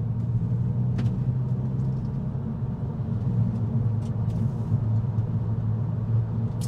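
Interior drone of a VW Eos 2.0 TSI on a road drive, a steady low engine and road rumble that stays even and fairly loud throughout, with no talking.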